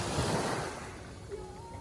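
Sea surf washing in at a Thai beach, a steady broadband rush that is loud at first and then eases off, with a faint tonal hum near the end.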